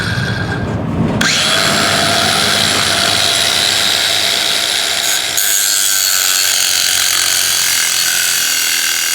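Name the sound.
4.5-inch cutoff wheel cutting steel trailer coupler lock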